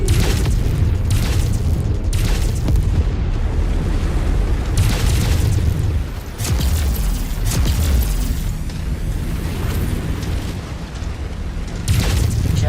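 Explosions from mech combat in MechWarrior 5 as targets and buildings are destroyed, a continuous heavy rumble with repeated loud booming bursts over roughly thirteen seconds, close and dense, with no speech.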